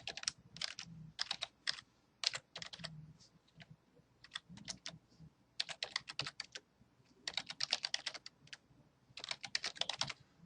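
Rapid bursts of typing on a computer keyboard while an email address is entered into a web registration form, clustered clicks in close, steady runs separated by brief pauses.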